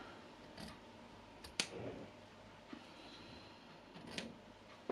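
Scissors snip through fabric beside a metal zipper while a camera pouch is being sewn. There are a few faint, sharp cuts and clicks scattered over a quiet background.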